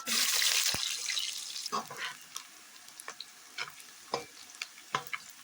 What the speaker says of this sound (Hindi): प्याज को हम अच्छी तरीके से गोल्डन ब्राउन करेंगे।